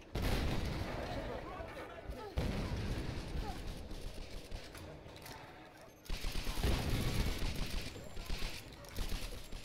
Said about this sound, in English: There's some shotgun action.